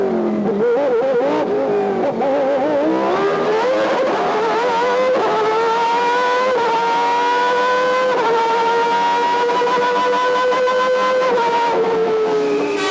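Ayrton Senna's 1990s Formula One car screams at full speed, a loud high-pitched engine wail rising and falling through gear changes for several seconds, alone without talk.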